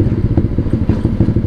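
Close motorcycle engine chugging with a rhythmic low thumping pulse and some clatter, ridden through narrow residential lanes, steady and loud with no talk over it.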